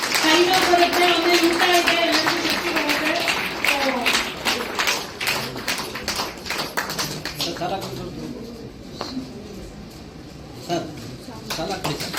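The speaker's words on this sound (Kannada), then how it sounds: "ಎಲ್ಲರೂ ಪ್ಲೀಸ್ ಚಪ್ಪಾಳೆ ಹೊಡಿಬೇಕಂತ ಕೇಳ್ಕೊತೀನಿ" Audience at a Kannada book release and felicitation ceremony breaks into scattered clapping that builds and then thins out, heard beneath an announcer's voice over a hall PA.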